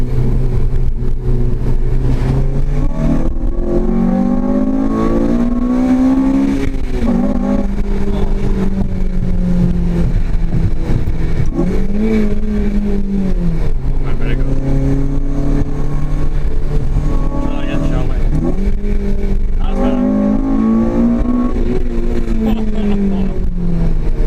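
A Honda Type R engine revving and accelerating hard from inside the car, loud rising pitch sweeps through repeated gear changes, with occasional voices under the engine noise.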